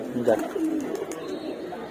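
Pigeons in a loft of large intake birds give soft cooing calls, a brief throaty burst near the start and lighter murmurs after it, heard under someone talking close by.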